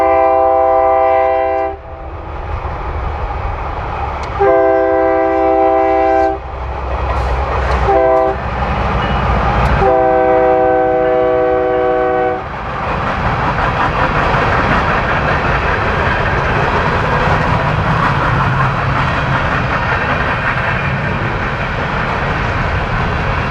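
A Union Pacific freight train passes through farm country near Peoria, Illinois, sounding several loud horn blasts before the rumble and clatter of rolling wagons swells and continues steadily.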